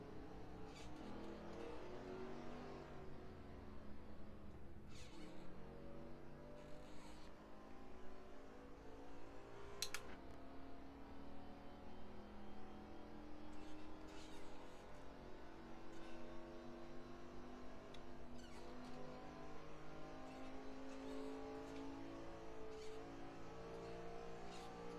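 Race cars in the NASCAR Racing 2003 video game drone and rev continuously, engine pitches rising and falling through gear shifts, with a few sharp clicks scattered over the steady roar.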